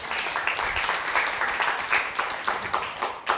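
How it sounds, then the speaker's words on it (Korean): A lecture audience gives a round of applause for Yoon Jung-won, a moderate, continuous patter of clapping from many hands in a hall. "윤중원님, 박수 부탁드리겠습니다"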